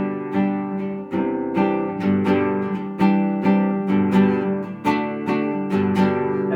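Guitar chords strummed with steady all-downstroke strums, each stroke a bright strike decaying quickly into the next in an even rhythm, close and alone with no talking.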